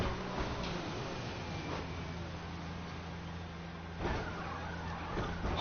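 A Formula 1 car in the F1 2019 racing game collides with Hamilton's car. A steady engine drone runs throughout, broken by a couple of brief impact thumps and a skid.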